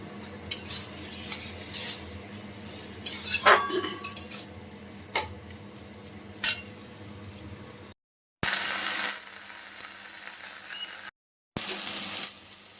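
A spoon scrapes and clinks in a pan of shrimp and bottle gourd curry, with irregular close metallic taps and stirring scrapes, followed by louder sizzling bursts broken by brief silences.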